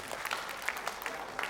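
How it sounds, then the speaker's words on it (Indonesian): A brief burst of scattered clapping from an audience applauding the teachers, a handful of sharp claps close together over a faint background murmur. "Tepuk tangan untuk Bapak Ibu guru semuanya."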